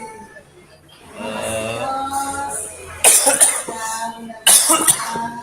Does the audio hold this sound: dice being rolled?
no